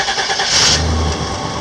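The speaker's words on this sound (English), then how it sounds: "I'm going to start the truck and make sure everything's running good." A Chevrolet Silverado pickup engine cranks and catches, a brief starter whir rising into a steady running engine, close and fairly loud with no talking over it.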